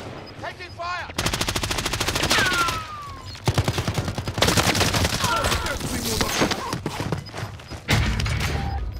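Rapid automatic gunfire in Call of Duty Warzone, loud close bursts of rattling shots that come in several volleys with short pauses between them, plus distant echoing fire and brief swooshing effects.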